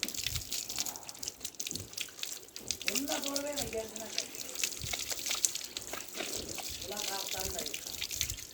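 Running water splashes and trickles while a golden retriever is rinsed during a bath at home. The flow stays steady at close range, and voices talk over it at times.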